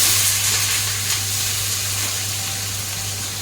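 Chopped onions with cloves, cinnamon and cardamom fry in hot oil in a home kitchen, a steady close sizzle with a low hum underneath and no talking.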